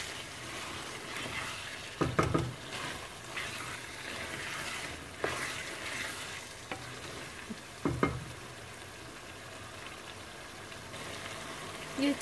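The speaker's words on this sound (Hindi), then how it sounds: "अब मैं 6 से 7 मिनट के लिए इसको मज़ीद भूनूंगी।" Chicken fries in a pan with lemon juice, a steady close sizzle broken by a few sharp scraping stirs near the start and middle. No voices.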